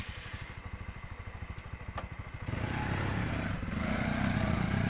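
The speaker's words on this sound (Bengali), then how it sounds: "স্টার্ট দিচ্ছি এখান থেকে বাইক" A motorcycle engine chugs in a rapid, even idle, close by, then revs up into a louder, rougher, sustained roar, with no talk.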